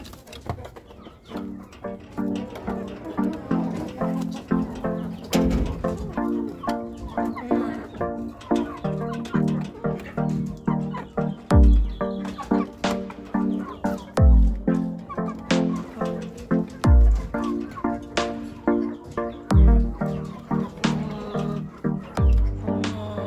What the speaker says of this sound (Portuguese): E a gente vai botar o nosso galo aí para ver o que acontece.